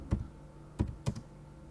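Sparse keystrokes on a computer keyboard, three distinct clacky taps spaced irregularly in a quiet room, with no speech.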